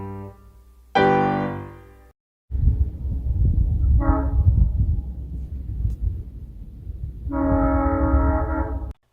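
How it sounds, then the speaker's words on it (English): A Verde Canyon Railroad train horn blasts in several long, loud tones in Clarkdale while the heavy rumble of a passing train rolls underneath, continuing between the horn calls. "you probably recognize the train horn you hear almost every day coming from the Verde Canyon Railroad"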